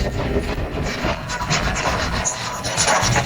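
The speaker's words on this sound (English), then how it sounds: "Rub more to work the powder underneath completely." Graphite powder being rubbed into paper for a pencil drawing of an eagle, a steady close scratchy rubbing with quick back-and-forth strokes.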